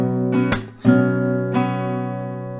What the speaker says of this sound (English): one strumming round will sound like this